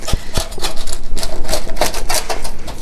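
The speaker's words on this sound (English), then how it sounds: "I'm going to use a pizza cutter and go ahead and cut them" A pizza cutter rolls through baked olive feta flatbreads, producing rapid close clicking and crunching taps in a fast irregular rhythm, loud and alone without talk.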